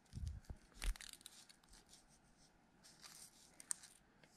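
Scissors snip carefully around a folded hole in a small Lego Star Wars pauldron, with a couple of crisp cuts early on followed by quieter crinkling and snipping, faint and close.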